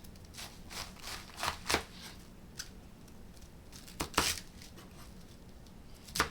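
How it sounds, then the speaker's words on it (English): A knife slices through a four-pound head of cabbage in a home kitchen, giving a series of crisp, scattered crunching cuts, some louder than others, spaced irregularly over a faint background hum. "So we're going to start off with a head of cabbage. This is approximately 4 pounds, and I'm just going to go ahead and cut it."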